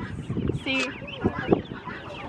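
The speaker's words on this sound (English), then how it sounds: "Those are turkeys." Poultry calls near turkeys in a farm or feed-store setting: a few short clucks and gobbling chirps, close and moderately loud, mixed with brief talk and background chatter.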